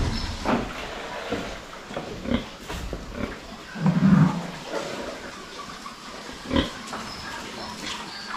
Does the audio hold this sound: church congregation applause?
no